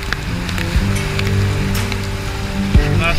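Rain falling steadily on a sailboat during a coastal passage, a close, even patter and hiss with a few louder knocks and splashes, running without a break for a few seconds.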